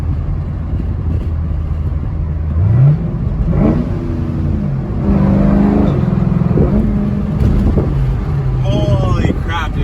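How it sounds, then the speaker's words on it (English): Revving exhaust of a 2005 Mustang GT 3V V8 with a Pypes muffler delete, loud and raspy with rising and falling revs and a quick shift, heard from inside under excited talk. "This exhaust is so freaking loud."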